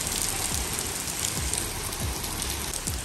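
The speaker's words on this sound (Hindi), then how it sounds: "आज हमारे यहाँ बहुत तेज बारिश हो रही है" Heavy monsoon-style rain pours steadily outdoors in India, a dense, even hiss of drops hitting surfaces with no pauses and no voices.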